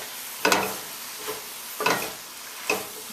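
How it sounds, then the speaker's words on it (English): Curry cabbage with stewed chicken being stirred in a pot, three short scraping, sizzling strokes spaced about a second apart, close and fairly quiet with no talking. "give that a good stir"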